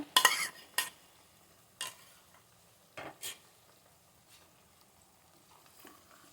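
Minced meat with a couple of bones cooks quietly in a pan, with a few sharp spatula scrapes and clatters at irregular intervals over a faint background.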